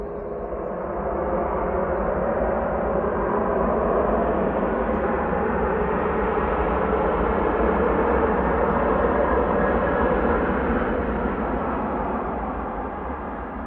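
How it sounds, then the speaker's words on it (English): A Ryanair jet airliner roars on takeoff at Manchester Airport, a loud, steady broadband rumble that holds for the whole stretch and eases slightly at the end, with no voices. "Another noisy Ryanair."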